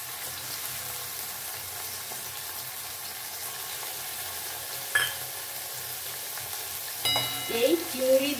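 Tiger prawns marinated in salt and turmeric fry in a pan with a soft, steady sizzle, joined near the end by a few clinks and a louder stirring burst.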